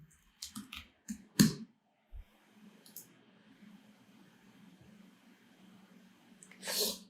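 A computer keyboard is typed on in short bursts of sharp, close clicks near the start. A few isolated taps follow, and a faint background hum fills the otherwise quiet room.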